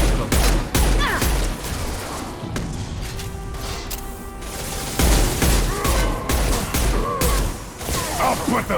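Dense gunfire and heavy explosions from shooting explosive crates in the Mass Effect video game, a rapid barrage of loud blasts and thuds with brief lulls, with voices talking under the combat.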